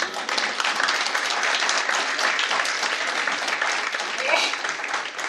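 An audience at an Eid Milan mushaira claps and applauds, a dense, sustained wash of many hands close by, holding steady for the full stretch before easing slightly at the end.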